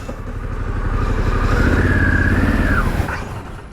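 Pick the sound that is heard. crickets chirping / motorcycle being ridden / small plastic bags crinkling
motorcycle being ridden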